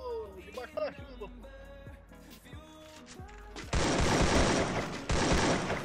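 Video game gunfire erupts in dense, loud bursts of rapid shots in the second half, following quieter game sounds and music-like tones with background chatter.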